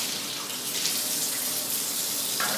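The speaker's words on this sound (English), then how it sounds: "this part also, we'll just rinse that off" A part of a spiral vegetable slicer is rinsed under a running kitchen tap, a steady close hiss of flowing water splashing onto plastic.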